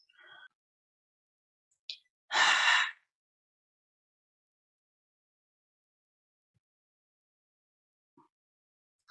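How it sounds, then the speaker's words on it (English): A single deep, breathy exhalation during a yoga breathing exercise, close and fairly loud, lasting about half a second amid otherwise near silence. "Really lengthen out your exhalation."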